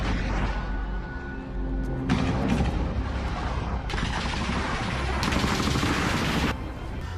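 Gunfire in war combat footage, with an Israeli military vehicle firing on fighters: dense, continuous bursts of rattling shots with blasts and surging noise throughout, loud and close, with no gaps.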